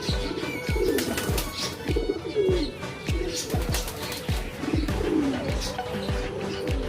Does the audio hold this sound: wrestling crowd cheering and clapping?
no